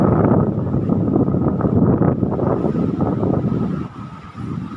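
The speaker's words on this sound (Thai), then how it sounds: "ตรงนี้นี่ก็มีลมพัดอยู่เรื่อยๆนะครับ" Steady wind blowing across the open Chulalongkorn Bridge in Ratchaburi, Thailand, a broad continuous rush buffeting the microphone at fairly high level, easing briefly near the end, with no talk.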